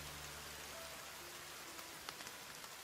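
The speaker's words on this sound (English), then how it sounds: "You can hear the rain just now." Steady rain in the forest survival game The Forest, a soft continuous hiss with a few faint drip-like ticks near the end, heard alone without voices.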